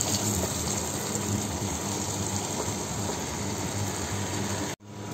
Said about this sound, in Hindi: ये हम पूरा एक भर के डालेंगे इसमें। पानी आप अपने मुताबिक डाल सकते हैं